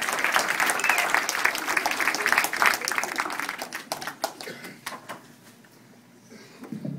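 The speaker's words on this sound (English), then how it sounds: "Give a round of applause to yourselves." An audience at a Magnus Walsh event applauds itself, a burst of crowd clapping that is strong at first, then thins to scattered individual claps and dies away.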